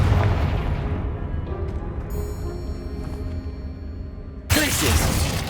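Spell blasts go off in the video game Hogwarts Legacy: a rumbling boom fades over several seconds, then a sharp, loud new burst hits near the end, with a faint voice in the mix.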